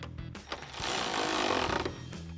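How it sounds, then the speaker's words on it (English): A 10mm socket on a ratchet tightens the top headlight bolt of a 2018-2023 Mustang GT, giving a close, dense burst of fast mechanical clicking that lasts about a second. "Now we can tighten down our top bolt using our 10mm socket."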